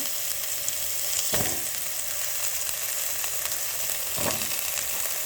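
Potatoes and plantain fry together in oil in a pan, giving a steady soft sizzle with a couple of brief stirring clatters.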